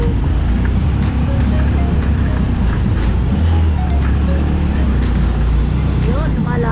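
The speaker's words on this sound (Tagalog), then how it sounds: "Lumalaban yung motor ni Kuya." A fruit vendor's motorcycle engine strains uphill toward a flyover in traffic, a loud steady low rumble with wind buffeting throughout and a rider's voice talking over it.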